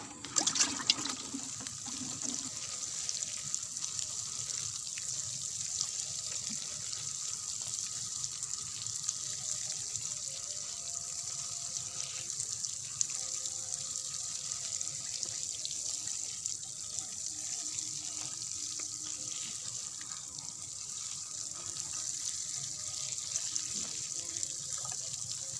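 Water pours and splashes steadily over newly transplanted basil plants for a long stretch, a continuous close hiss like a stream from a hose or can, with no talking.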